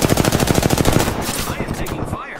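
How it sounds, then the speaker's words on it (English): Rapid automatic gunfire rings out in an Apex Legends-style battle royale video game, a fast even burst of loud close shots that slows and thins into scattered shots near the end. "I am taking fire."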